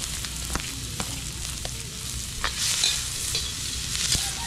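Garlic and onions sautéing in a pan, a loud continuous sizzle broken by sharp stirring clatters of a utensil against the pan, close up with no voices.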